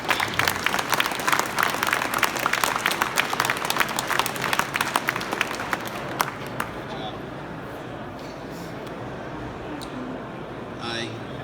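Audience applause at a marine industries hall of fame induction ceremony in Moncton, dense clapping from a crowd for about six seconds before fading out into room quiet.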